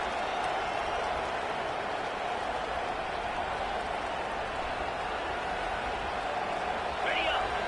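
Stadium crowd at an Oklahoma at Utah college football game, a dense, steady wall of cheering and roaring noise held throughout at full volume, with a commentator talking over it.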